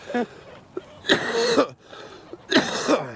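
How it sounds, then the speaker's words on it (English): Two rough, hacking coughs sound close to the microphone, each a short cluster of harsh bursts, separated by a brief pause. "Now I have to cough again though because I did that."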